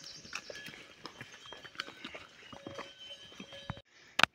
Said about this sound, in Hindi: तो यहाँ पे ये घोड़े आ गए हैं, भयंकर भाग रहे हैं घोड़े